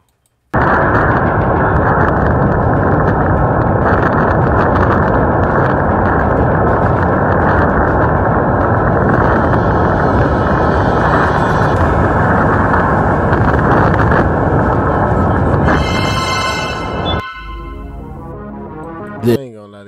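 Violent tornado wind captured by a doorbell camera, a loud continuous roaring rush battering the microphone for about sixteen seconds before it abruptly drops away to quieter gusts and rattling.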